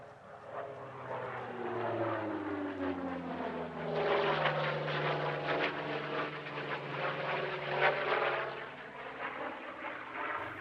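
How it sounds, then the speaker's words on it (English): An ex-Iraqi Air Force Hawker Fury configured as a Sea Fury FB-11, with a Bristol Centaurus radial engine replaced, flies past at an airshow, its propeller drone rising and falling in pitch as it approaches, passes loudly and recedes. "this is an ex-Iraqi Air Force Fury now configured as a Sea Fury FB-11"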